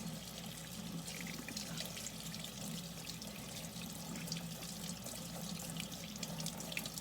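Water running from a kitchen tap into a sink while hands are rinsed, a steady hissing splash with faint irregular patter, moderately quiet and unbroken, with no talking.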